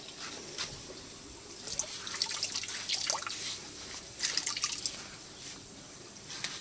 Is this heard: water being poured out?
yes